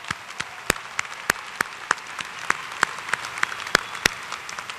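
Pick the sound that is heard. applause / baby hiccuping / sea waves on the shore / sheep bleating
applause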